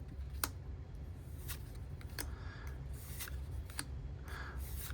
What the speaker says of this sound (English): Don't know the card trick, so we're just gonna rip it.